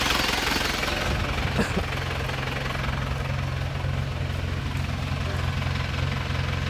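An old Isuzu Panther diesel engine runs steadily close by, a rough, continuous rumble with a rapid knocking rhythm throughout.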